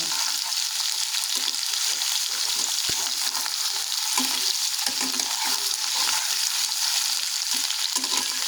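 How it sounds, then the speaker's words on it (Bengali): Ginger fries in a hot pan, giving a steady, close sizzle with faint crackles throughout, heard alone without any talking. "আমি মোটামুটি আদা ভাজা করে নিয়েছি খুব বেশি কড়কড়ে ভাজা করব না"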